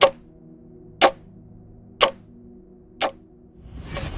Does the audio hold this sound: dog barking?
no